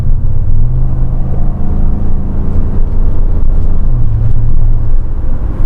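Ford pickup truck with a V8 or EcoBoost engine accelerating at full throttle, a loud, steady low engine roar with rising and shifting harmonic tones heard from inside the cab, without speech.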